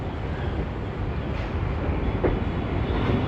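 Daily MEMU passenger train from Reddigudem rolling into Vijayawada railway station: a continuous dense rumble and rattle of the carriages heard from inside, steady and fairly close, with no voices.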